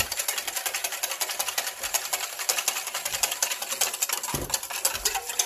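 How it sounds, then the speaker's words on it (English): Olive oil being whisked into a kale salad dressing to emulsify it, a rapid, continuous clicking of a whisk against a bowl, close and steady with no talking. "We're gonna whisk some olive oil into our dressing."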